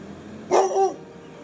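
A dog gives a short bark followed by a brief yip, fairly close and clear over a quiet outdoor background.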